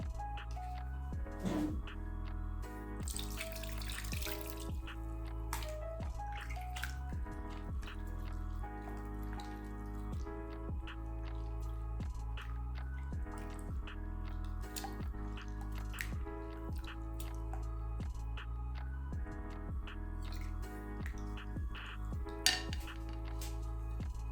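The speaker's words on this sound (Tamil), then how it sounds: "இன்னும் கொஞ்சம் தண்ணி ஊற்றி பிசைஞ்சு எடுத்துடலாம்." Wet squishing and dripping as water is worked through grated carrot by hand, with occasional clinks of a utensil against a bowl, continuous and close.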